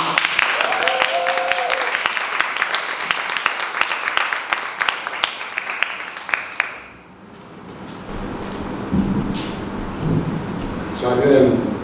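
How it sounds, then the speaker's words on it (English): Loud applause with dense clapping from a crowd at a poetry slam for several seconds, fading out, followed by muffled murmuring and room noise. "Raise another warm applause for Agiri."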